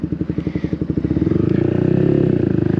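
A Yamaha XSR 125 motorcycle rides over cobbles. Its loud exhaust thrums with a steady, rapid pulse, close and dominant, and rises slightly in pitch and density as it goes.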